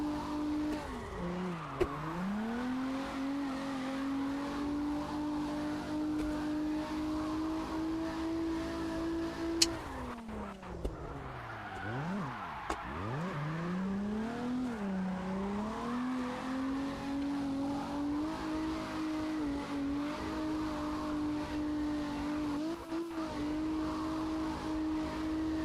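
Car engine holding high revs through long drift slides in CarX Drift Racing, a steady loud whine that dips and surges with shifts and throttle lifts, tire squeal mixed in, no talk.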